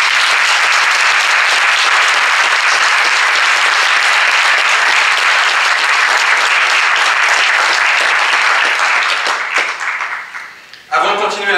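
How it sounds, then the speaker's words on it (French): Warm audience applause at an evening event, loud and dense clapping sustained for about ten seconds before thinning out, followed by a brief burst of a voice at the end. "je vous demande de bien vouloir l'applaudir chaleureusement"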